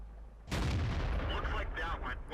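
A KV-5 heavy tank's gun firing in the video game World of Tanks, one loud, close booming shot with a rumbling tail and mechanical clanks after it, under a faint voice.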